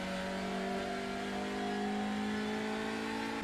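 A TCR touring car engine in the iRacing sim accelerating out of a corner at Watkins Glen, a steady loud drone with harmonics climbing smoothly in pitch as revs build, no talk over it.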